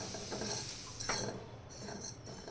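Spice mix for a quick raw mango pickle being stirred and dry-roasted in a pan over a medium gas flame, giving a steady close scraping rustle with faint utensil clinks.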